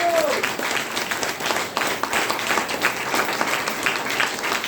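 Applause from an audience at a health special training programme in Bhagwanpur, a dense, steady wash of many hands clapping, loud and close, with some crowd voices mixed underneath throughout.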